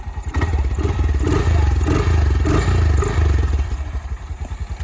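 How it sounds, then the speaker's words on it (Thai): A motorcycle engine with a loud aftermarket exhaust runs close by at a steady idle, its low, rapid pulsing throb holding even, with a slight rise partway through. "เดี๋ยวเรามาฟังเสียงเครื่องดูนะครับ เครื่องก็จะเงียบๆหน่อยนะครับ"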